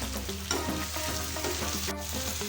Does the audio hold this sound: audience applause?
no